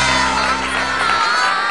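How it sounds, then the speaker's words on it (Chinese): An audience of children in a classroom cheering and applauding to welcome a guest speaker, a loud dense burst of shouts and claps that cuts off abruptly partway through. "大家掌声欢迎。"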